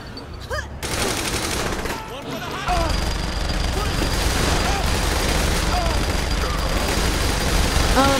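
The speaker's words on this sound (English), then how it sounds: "Minigun!" Minigun fire in the video game Saints Row: The Third, a loud continuous rattling fusillade with explosive booms running almost the whole stretch, with game voices and shouts mixed in.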